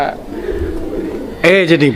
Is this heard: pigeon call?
yes